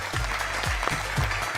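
A studio audience on a Pakistani game show claps in a short burst, steady and close, with low rhythmic thumps from background music running underneath.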